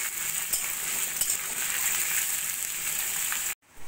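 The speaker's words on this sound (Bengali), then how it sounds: "সেই আলুগুলো পেঁয়াজের সঙ্গে একটু ভাজা ভাজা করে নেব।" Diced potatoes and onion frying together in a pan, a steady bright sizzle throughout that cuts off abruptly near the end, with no voices.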